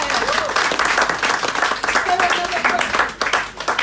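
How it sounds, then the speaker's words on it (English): An audience at a social dinner bursts into a short round of applause, many hands clapping together close by while a voice carries over it. "Round of applause, please."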